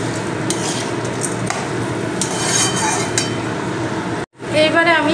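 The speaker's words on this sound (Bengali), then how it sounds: "একটু নাড়াচাড়া করে নেব।" Washed lentils are stirred in a pot for khichdi, with close scraping and clinking of a spoon against the pot in uneven strokes, a brief gap near the end, then a voice speaking.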